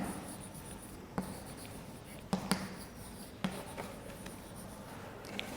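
Quiet chalk-on-board writing by a teacher in a classroom: a few faint taps and short scratches spread irregularly over a hushed room, with no talking.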